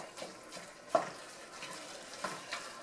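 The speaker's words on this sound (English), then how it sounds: "The meat is browning." Ground meat browns in a hot pan for a barbecue or sloppy joe filling, giving a soft steady sizzle with a few louder stirring clicks and scrapes spaced through the moment, close by with no talking.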